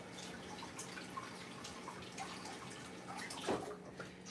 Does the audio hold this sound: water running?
yes